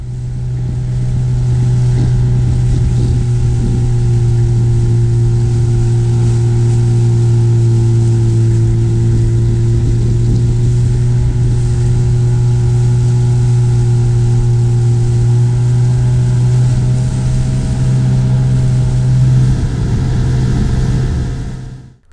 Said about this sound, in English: The Dorus Mor was no match for the Grey Gurner's 25 horsepower outboard, and soon we were motoring along Loch Craignish